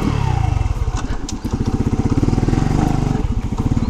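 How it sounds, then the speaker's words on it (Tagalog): A Euro Motor Rapido 110 semi-automatic motorcycle engine runs steadily up close, with a fast, even putter and a smooth, fairly quiet idle that holds throughout. "Yun, napakadali lang i-start ng motor na to. So hindi siya maingay. Ayan o, pakinggan nyo. Smooth lang."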